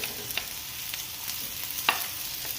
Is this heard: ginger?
yes